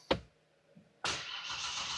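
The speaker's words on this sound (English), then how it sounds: "Let's start the vehicle." A Genesis sedan's engine starting: a sharp click, a brief pause, then the engine catches and settles into a steady idle, close and clear.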